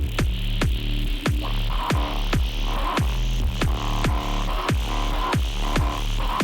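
A synthesized ambient electronic drone with reverb, a dark, doom-style texture built with low-pass filtering, pulsing in a steady repeating throb roughly every half second, loud and continuous with no voices.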